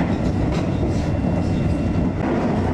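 Japanese limited express train running through Sabae station, a steady loud rumble of wheels and carriage noise that continues without pause, heard up close from on board or near the track.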